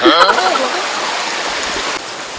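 Water runs steadily into a container being filled outdoors, a close, loud, rushing splash that holds constant, with a brief voice at the very start.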